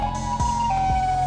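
A siren wailing in the Minecraft video game, a loud continuous electronic tone that steps slightly lower partway through, with faint low thumps beneath.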